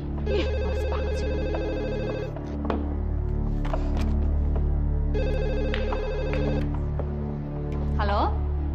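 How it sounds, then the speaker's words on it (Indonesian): A telephone rings in bursts of electronic trilling, two long ring sequences separated by a pause, close and loud in a domestic room, with people talking over and between the rings. "kamu angkat dong teleponnya"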